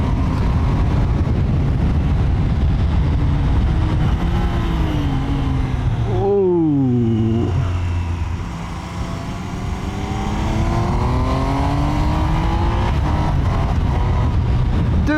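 A Triumph Trident 800 triple-engine motorcycle ridden up a mountain road, its engine droning loudly and steadily with rising and falling revs, a sharp rev swell midway, under continuous wind rush.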